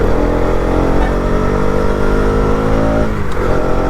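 A KTM Duke 250 Gen3 motorcycle engine hums steadily under riding load, a close, loud and continuous drone with only slight shifts in pitch.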